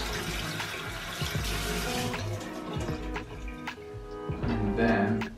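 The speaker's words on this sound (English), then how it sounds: "as it's organic, I just give it a quick rinse" Organic cauliflower rinsed under a running kitchen tap, water splashing and gurgling over the head into the sink with shifting thumps as it is turned, fairly close, with a voice speaking briefly.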